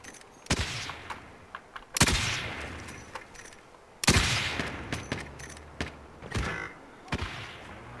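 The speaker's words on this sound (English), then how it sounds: "Someone is shooting from the left, be careful, huh?" Bursts of gunfire in Call of Duty Warzone: sharp, loud shots in separate volleys, some single cracks and some rapid strings, each trailing off into an echoing rumble.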